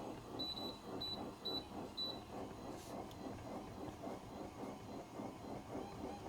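A MERACH elliptical machine runs at its top speed setting with a steady, rhythmic mechanical whir and thump repeating in regular cycles, while a few short electronic beeps sound near the start.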